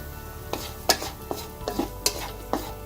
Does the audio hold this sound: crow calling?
no